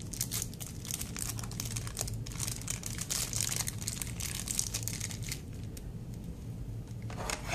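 Packaging around an LG G Watch R charging base being opened, with loud continuous crinkling and tearing of wrapping, plastic rustling in close bursts and no talk.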